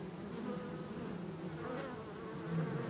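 Honey bees hum in a steady, droning swarm around a hive frame, a continuous close buzz that swells slightly in places.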